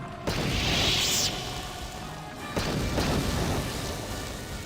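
Frag mines exploding in the video game Knights of the Old Republic: a loud booming blast with a hissing burst, followed by a second heavy explosion a moment later, with no voices over them.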